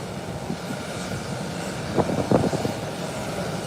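A British Airways airliner on an airport runway gives off a steady, moderately distant engine roar with a few brief louder swells, and no voices are heard.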